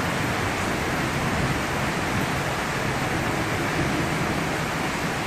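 Rainwater pours steadily into a small front-yard pond, a dense, even hiss of falling and splashing water close by, with no voices.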